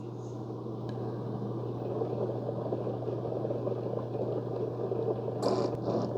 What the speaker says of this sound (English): after about 30, almost a minute, it turns a pump on